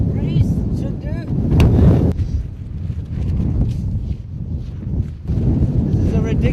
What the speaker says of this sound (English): This is a ridiculous wind to be flying kites in.